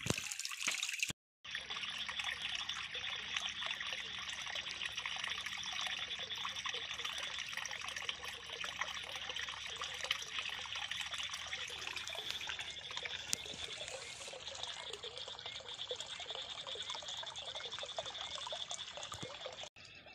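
Irrigation water flowing into a village corn field for flood watering, a steady close trickling and gurgling stream that runs throughout after a short gap near the start.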